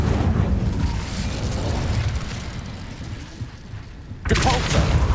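Incendio, the fire spell in Hogwarts Legacy, gives a rushing, booming roar that fades over several seconds, then flares again with a sharp new burst near the end, with voices mixed in.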